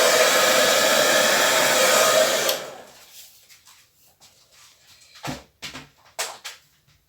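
Hair dryer blowing over a wet acrylic Dutch pour painting, a loud steady whoosh that cuts off, followed by a few quiet knocks and handling sounds.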